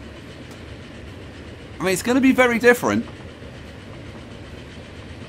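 Video-game trains running in Transport Fever give off a continuous low rolling rumble, and someone briefly speaks on top of it midway.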